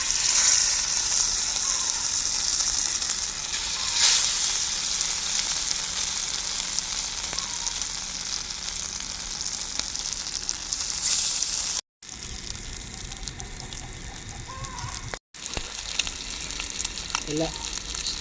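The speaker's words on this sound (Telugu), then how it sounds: "ఇప్పుడు మనము ఈ ముక్కలు అనేది ఒక్కొక్కటిగా వేపుకుందాం." Marinated fish pieces fry in hot oil with a loud, continuous close sizzle and hiss that cuts out briefly twice near the end.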